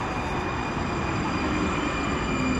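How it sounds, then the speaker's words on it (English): A light-rail train rolls in at a station near a baseball stadium, its wheels rumbling loudly and steadily up close with a faint high squeal, and no talk over it. "Here's our train."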